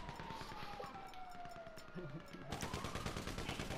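Gunfire in the video game GTA V: rapid bursts of shots and impacts over game sounds and a siren-like tone, fairly loud throughout the short stretch.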